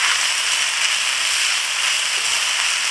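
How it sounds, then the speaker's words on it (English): Six cups of rice stir-fry in a pan on high heat, giving a steady, even hiss of sizzling that continues without pause and with no talking. "We're stir frying."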